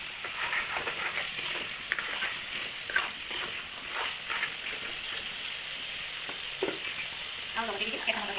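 Chicken and taro fry in a pan with a continuous close hiss and crackle. Occasional spatters and light stirring knocks break through, and no one speaks.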